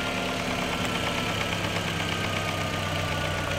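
2003 Volkswagen Passat wagon with an AWM engine running at idle, a close, steady mechanical hum with a slight knocking texture throughout.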